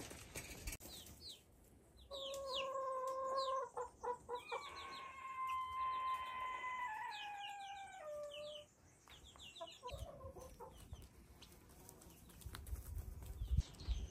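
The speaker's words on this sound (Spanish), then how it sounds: "qué hace ahí una gallina en la chimenea?" A hen clucking inside a farmhouse chimney where she is incubating, with a run of drawn-out, rising cackles and calls in the middle of the stretch and softer clucks before and after.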